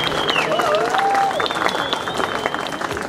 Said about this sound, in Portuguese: Um aplauso de todos.